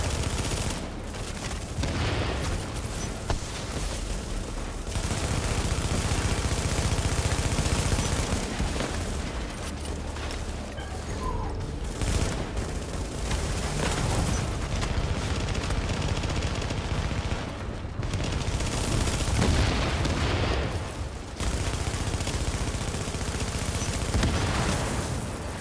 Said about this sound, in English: I'm about to hit him with his grenade.